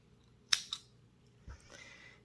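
Scissors cut through a cord in a knitted cord-making craft, giving one sharp close snip followed by a fainter second snip and a soft rustle, in an otherwise quiet room.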